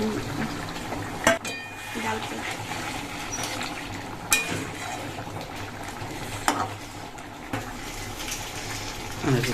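Fish roe simmering in a potato curry gravy, with a steady low bubbling and sizzling from the pot and a few sharp clinks of a spoon against it, sounding close by.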